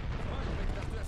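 Enemies firing rockets in the game Red Faction, a dense, continuous roar of blasts and explosive rumble filling the scene, with someone talking over it.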